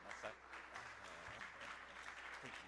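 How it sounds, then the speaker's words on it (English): Audience applause at a humanities faculty international conference, a steady wash of clapping throughout at moderate level, with faint voices mixed in underneath. "let's keep clapping as they walk back to their seats"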